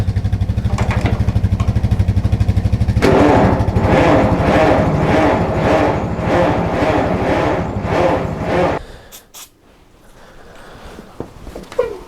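Old Farmall tractor, left sitting for years, cranking and trying to start with a rapid low chugging rhythm that grows louder and busier, then dies after about nine seconds, leaving quiet background noise and a few faint knocks.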